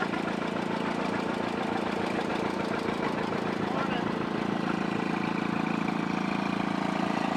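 Souped-up lawn tractor engine rumbling steadily at a small-town parade, a continuous loud mid-pitched drone with knocking texture that holds for the whole stretch, with voices faintly audible underneath.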